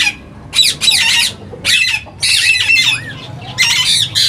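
Ringneck parrots in a breeding setup let out loud, harsh squawks in repeated bursts at close range, with short pauses between the calls.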